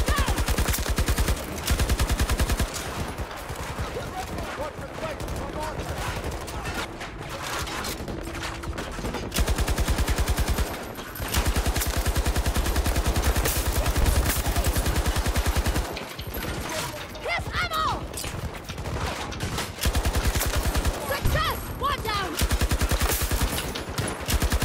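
RPT-31 light machine gun firing in Battlefield 2042, long sustained bursts of rapid automatic fire separated by short pauses, loud and close, with occasional distant gunfire and game effects between bursts.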